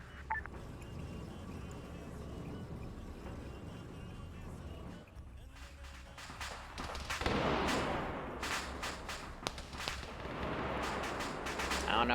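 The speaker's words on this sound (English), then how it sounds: "I don't know who's shooting at what" Distant gunfire and artillery-like booms crackle through a military video game battle, with sharp shot bursts growing denser in the second half over a steady rumbling bed.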